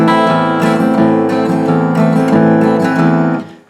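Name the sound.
unmuted guitar bass notes ringing out, sounding messy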